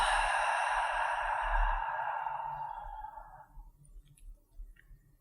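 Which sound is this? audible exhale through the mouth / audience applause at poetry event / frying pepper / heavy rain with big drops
audible exhale through the mouth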